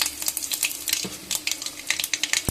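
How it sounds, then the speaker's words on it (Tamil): Mustard seeds crackle and pop in hot oil while tempering for a star gooseberry pickle, a dense run of sharp close spatters over a steady sizzle, with no voices. "கடுகு போட்டுக்கணும்."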